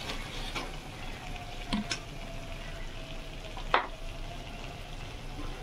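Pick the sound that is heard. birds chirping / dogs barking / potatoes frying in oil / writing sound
potatoes frying in oil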